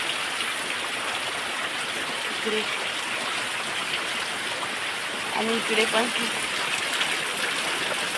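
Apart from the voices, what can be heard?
heavy rain falling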